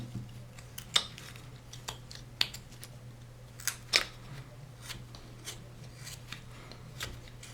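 A hand carving knife slices small pieces off a wooden caricature figure, making sharp, isolated snicks and clicks at an uneven pace over a quiet, humming room.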